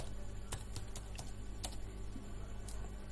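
Computer keyboard typing in short bursts, light clicking keystrokes clustered irregularly over a steady low hum, close and moderately quiet with no voices.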